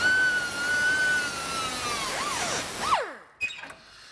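A power tool slices through the metal body of a 1955-1957 Chevy wagon with a loud, whining high-pitched cut that bends in pitch as the blade works. It stops abruptly, followed by a couple of clunks.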